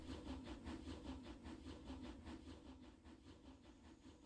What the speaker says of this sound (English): You can see the second train's coming up.